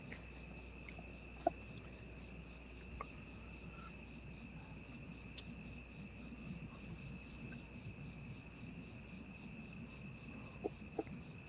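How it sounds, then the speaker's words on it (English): Crickets chirp outside at night as a steady, high, continuous trilling drone, faint and far off, with a few small knocks now and then and no voices. "You can probably hear the crickets."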